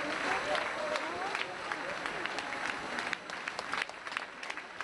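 Audience applause at a ballet performance by a national dance company touring a cultural centre stage in Istanbul, a dense sustained clapping from a large crowd that carries on throughout.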